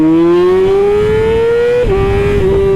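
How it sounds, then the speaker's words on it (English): Yamaha R6 sport motorcycle engine screams at high RPM with a loud, piercing rising whine, then holds near the top with two brief dips in pitch, close and alone without speech. "making this bike sound like a freaking F1 car when you up in the RPMs"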